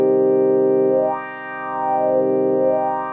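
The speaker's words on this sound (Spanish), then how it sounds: "un órgano farfisa que suena así" Farfisa organ holding a steady, buzzy chord with a wavering, swelling vibrato that dips and rises in loudness, loud and close, no voices.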